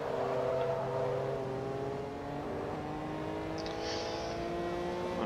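A racing car engine in Forza Motorsport 2 holds a steady, smooth drone under careful throttle, with gently shifting pitch and no talking.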